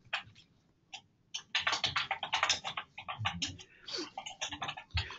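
Rapid typing on a computer keyboard, near and clear, with irregular bursts of key clicks after a few isolated taps, alone without talk.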